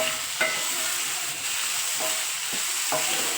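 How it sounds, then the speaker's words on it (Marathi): Ginger, garlic, melon seeds and cashews stir-fried in a pan, a steady close sizzle with a few sharp scrapes of the spoon against the pan. "आता हे टाकून घेऊ आणि व्यवस्थित परतवून घेऊ"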